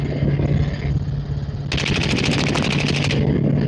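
Rapid machine-gun fire on a shooting range, a steady close burst of evenly spaced loud shots lasting over a second after a rumbling lead-in, with a low helicopter-like drone underneath.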